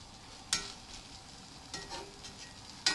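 Food cooking gently in a pan gives off a low, steady sizzle, with a few sharp clinks of a spatula against the pan scattered throughout.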